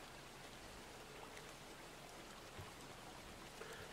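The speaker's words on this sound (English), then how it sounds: "Get some nice rain sounds." Rain ambience sample laid into a lofi hip hop beat on an Elektron Digitakt, a steady soft hiss of falling rain and drops running evenly and alone, fairly quiet throughout.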